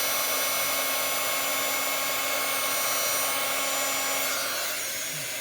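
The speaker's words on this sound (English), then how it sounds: "you don't want to leave the heat gun on too long, or it won't be a nice image" A heat gun blows steadily while heating embossing powder on a card, a constant close whirring hum with a bright airy hiss that holds for the whole stretch.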